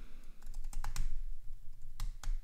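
Quick bursts of typing on a computer keyboard, close and clear, with clustered key clicks, a short pause, then a few more taps, with no voices.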